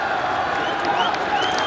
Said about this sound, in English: Indian fans cheering.